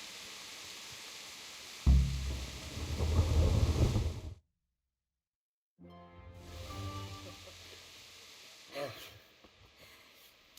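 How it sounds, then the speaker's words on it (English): Thunder rumbles in a storm in the game Kingdom Come: Deliverance, with a heavy rolling crash, then a sudden silence, and then steady rain hiss with more distant rumbling. "Not afraid of thunderstorms, are you?"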